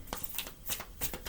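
Oracle cards are shuffled by hand in a quick series of soft, crisp riffling flutters, close and fairly quiet.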